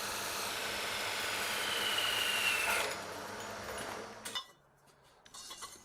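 Power tools cut and drill individual steel pieces for a desk frame, giving a steady, loud whine that stops abruptly, followed by a few metallic clinks and a quieter tool restarting.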